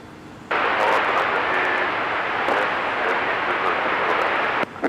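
A Sun Country jet airliner takes off from runway 30 left at Minneapolis–St. Paul, its engines swelling into a loud, steady broadband roar that holds for several seconds before cutting off.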